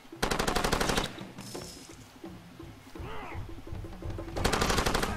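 Loud rapid automatic gunfire from a gun in the video game Far Cry 2 during a nighttime assault, with a long burst at the start and another at the end and quieter game sounds in between.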